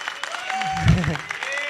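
Audience applause at a film screening event, a short burst of clapping from the crowd with a voice speaking over it.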